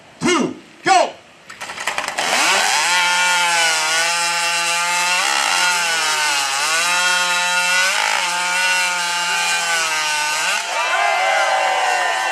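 At a lumberjack show competition, after two short shouts, a chainsaw roars to life and cuts steadily through a log, its loud engine pitch rising and dipping as it bites into wood.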